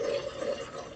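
A gravy whisk scrapes and stirs gravy in a cast iron pan on an unlit burner, a soft steady swirling close by that ends in a sharper clink.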